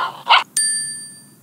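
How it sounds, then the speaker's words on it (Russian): A dog sound effect in a children's learning game gives a single short bark, clear and close. A bright chime rings out right after it and slowly fades. "Покажи собачку. У нее коричневая шерстка."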